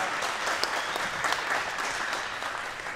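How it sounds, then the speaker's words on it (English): A basketball team applauds a player during a transition-offense practice drill, with a soft, steady patter of many hands clapping that sounds fairly distant and low in level and keeps up throughout. "Give him a clap."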